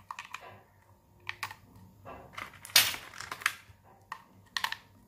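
Two AAA batteries go into a portable electronic scale with a run of small, close, sharp plastic clicks and rattles, scattered unevenly, as the back cover is handled and the cells are snapped into place, with no talking.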